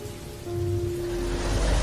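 Heavy rain pours down on a dark night in a Hindi horror cartoon, a dense steady hiss that swells louder, with a faint low hum underneath.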